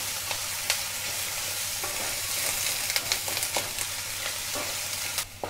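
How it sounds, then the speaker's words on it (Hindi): Onions fry lightly in a pan for butter Maggi, a continuous soft sizzle broken by repeated stirring clicks and scrapes close by, without talk. "और प्याज को हम थोड़ा सा भून लेंगे, ज़्यादा नहीं भुनेंगे, थोड़ा सा भुनेंगे।"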